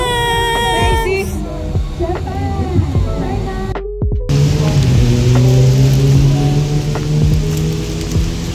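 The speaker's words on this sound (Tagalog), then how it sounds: "Yes, it's raining." Steady rain hisses across the whole band during a trip in Thailand, growing denser after a brief dropout midway, with voices and a low hum underneath in the first half.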